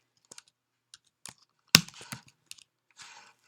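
Computer keyboard typing during a math lecture, heard as scattered, irregular clicks and short bursts of keystrokes, fairly quiet with no talking.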